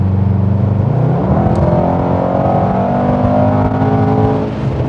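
Mercedes-AMG GT63S with its engine in race mode pulls hard under acceleration on an open road, a loud, rising engine roar with climbing gear tones, close and continuous with no talking.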